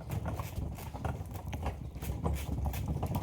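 Hooves of bullocks pulling a bullock cart clop in a quick, steady rhythm on a rural track, close and continuous with no talk.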